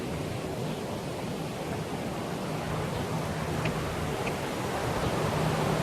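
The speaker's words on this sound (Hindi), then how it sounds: "यहाँ से पानी नीचे की तरफ आ रहा है" Water rushes down a small canal in a Dallas park, a constant broadband wash that stays close and even throughout without pauses or talk.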